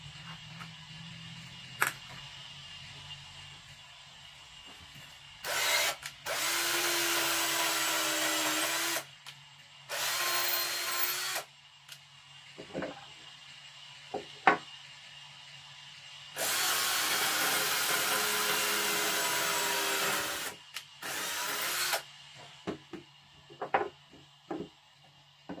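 A power drill whirs in several bursts of a few seconds each, bores into hard wood between pauses, with scattered clicks and knocks.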